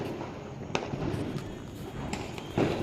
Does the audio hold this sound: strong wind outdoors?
no